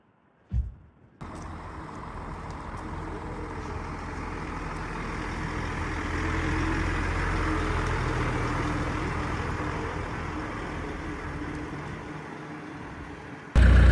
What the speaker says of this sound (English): you see vehicles coming in